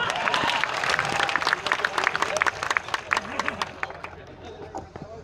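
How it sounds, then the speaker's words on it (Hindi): An audience at a Hindi poetry gathering breaks into applause, a burst of clapping mixed with crowd murmur and voices, tapering off toward the end. "एक बार फिर से थोड़ी बहुत तालियां बजा दो।"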